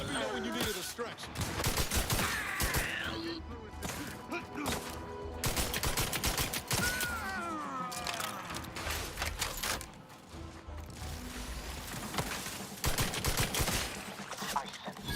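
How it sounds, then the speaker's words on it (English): Dense, sustained machine-gun fire in a video game set in a space-exploration shooter, rapid bursts rattling almost continuously for the full stretch, loud and close, with a voice speaking over parts of it. "This machine gun is insanely powerful."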